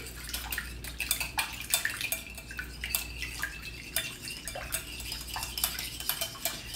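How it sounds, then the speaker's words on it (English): Eggs and a little water being whisked for an egg wash in a home kitchen, a quick rattling of utensil against a bowl in irregular bursts, close and fairly quiet, with no talking. "And I'm going to whisk that egg in a little bit."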